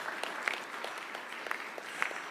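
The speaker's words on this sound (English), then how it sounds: "Let's give them another round of applause." Applause at a State House signing ceremony in Nairobi, faint and distant clapping with a few sharper individual claps standing out over a soft crowd murmur.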